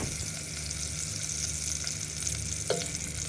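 Chopped onion, ginger and garlic frying in oil in a cooking pot give a steady, close sizzle with faint stirring scrapes and one brief clink near the end.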